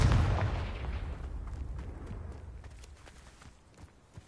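A Confringo fire spell explodes in a video game. One loud, close blast opens and fades into a rumbling tail, followed by a few soft footsteps.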